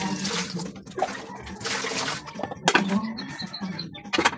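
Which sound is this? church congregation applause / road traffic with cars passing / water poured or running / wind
water poured or running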